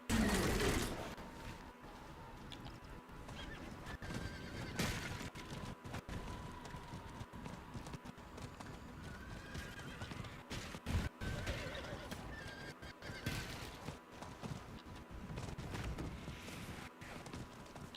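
A horse neighs in the video game Diablo IV over clip-clopping hooves, with wind and game ambience beneath, and more whinnies recur through the stretch.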